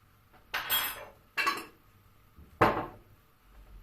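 A spoon stirs a seasoned mixture with chili flakes and salt for olive-oil stuffed cabbage rolls, giving three separate scraping, clinking strokes against a bowl, each about half a second long, with quiet pauses between them.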